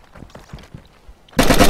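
Gunfire in the video game DayZ starts with a few faint shots, then a loud, sharp burst of fire erupts near the end.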